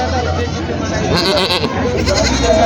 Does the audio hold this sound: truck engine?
no